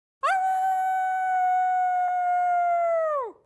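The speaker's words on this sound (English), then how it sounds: "Wolf howls came from behind them continuously." A single long wolf howl, as from a pack of lightning wolves, rises, holds a clear steady tone for about three seconds, then drops away, loud and close with no talk.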